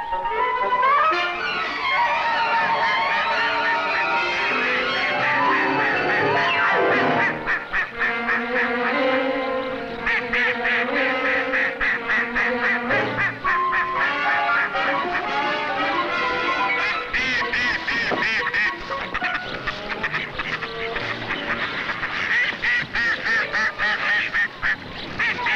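Loud, continuous quacking and honking from a group of ducks, overlapping calls filling the whole stretch without pause.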